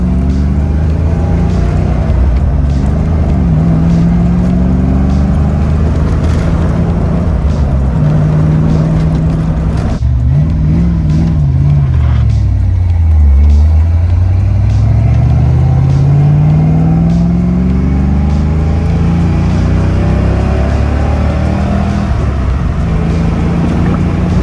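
A car with a clutch that engages right at the top of the pedal, heard from inside as it drives, its engine steady and close, then dipping low and climbing again as it revs through a gear change. There is no talking.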